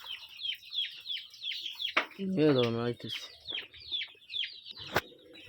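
Desi chickens cluck and chirp close by in a yard, with quick repeated clucks, one louder drawn-out rising call in the middle and a sharp sound near the end.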